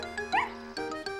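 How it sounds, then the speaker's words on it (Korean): A cartoon dog in a Korean-dubbed Miffy animation gives a few short, high yipping barks over sustained background music, close and clear. "스너피가 짖자"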